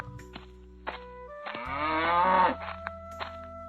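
A cartoon cow lets out one loud, drawn-out moo while being led out to graze, with a few soft footstep thuds and light knocks before and after it.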